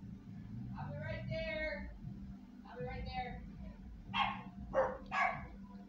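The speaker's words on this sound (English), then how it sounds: "My dogs are outside barking at them." Dogs barking outside, several rounds of barks and yips at moderate distance, rising into sharper clustered barks toward the end over a low indoor hum.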